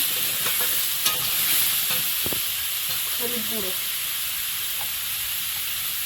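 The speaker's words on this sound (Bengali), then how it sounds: "একটু জিরে তেলে শুকনো লঙ্কা দিয়েছি আর একটু আদা বাটা" Dried red chillies and ginger paste sizzle in hot cumin oil: a steady, close frying hiss runs throughout, with a few brief clinks and scrapes of stirring.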